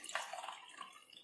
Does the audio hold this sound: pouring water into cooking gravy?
yes